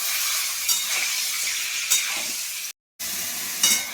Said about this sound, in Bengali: বেগুনগুলো নেড়ে নেড়ে আমি এরকম করে সব বেগুনগুলো ভেজে নেবো।